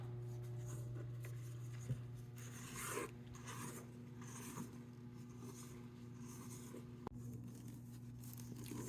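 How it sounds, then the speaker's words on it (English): A whisk stirs flour into sponge-cookie batter in a bowl, giving soft, steady scraping and rubbing strokes from close by over a constant low hum, with a few light taps against the bowl. "I'm going to whisk in the flour, but I'm going to do it in thirds"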